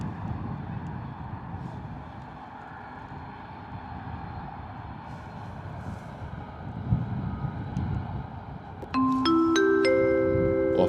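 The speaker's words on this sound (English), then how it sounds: "That wind is definitely picking up a little bit." Outdoor wind buffeting a microphone beside an airport runway, a continuous rough low roar that swells near the end, joined by a sharp electronic chime in the last seconds.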